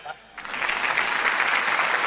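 A corporate anniversary gathering bursts into applause after the group chairman's speech, with a quiet moment before dense clapping from a large audience fills the hall and holds steady to the end.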